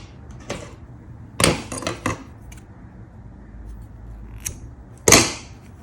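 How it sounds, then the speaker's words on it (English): Scissors snip through yarn at the end of a crocheted flower bookmark: a few short, sharp clicks and crunches, clustered in one burst and then a single louder snip, close and clear with no talking. "then chain, and then you can cut your yarn"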